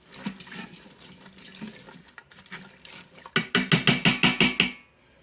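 Water poured into an Instant Pot and given a quick stir before the corned beef goes in, a loose splashing pour followed by a run of about ten rhythmic scraping stirs, close and fairly loud.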